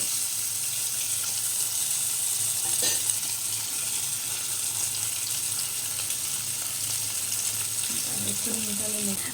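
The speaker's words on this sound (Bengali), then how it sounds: "মাছটার একটা পিঠ ভালো করে ভেজে নিয়েছি, মাছটাকে উল্টে দিচ্ছি, আর একটা পিঠও ভেজে নেব।" Fish fries in hot oil with a constant close sizzle and is flipped over in the pan, bringing a brief bump and scrape, then the steady frying carries on with no talking.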